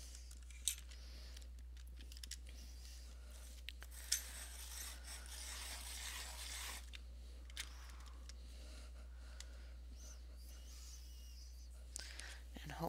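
A red colored pencil is sharpened with faint, close, irregular rasping and scraping strokes, broken by small clicks and taps. The sound is quiet and intermittent over a low steady hum.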